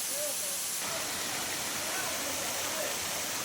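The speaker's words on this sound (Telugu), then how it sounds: "ఈ వాటర్ ఫాల్స్ ఫస్ట్ స్టెప్ చాలా బాగుంటుంది." Ranajilleda waterfall near Araku, its first step of falling water producing a steady broadband rush, fairly even and continuous throughout.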